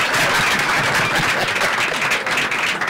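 Studio audience clapping on a Nigerian call-in radio and TV programme, a steady dense wash of applause sustained at close range for the whole stretch with no pauses.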